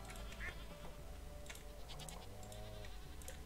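Faint goat bleats in the video game Stardew Valley sound over a steady low hum, with a few short wavering cries scattered across the clip.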